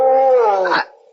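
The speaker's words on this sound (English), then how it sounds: "Oh, that was just a dog, Dora." A dog growls and snarls outside at night, a single loud, rising vocal lasting under a second that breaks off abruptly, followed by near silence.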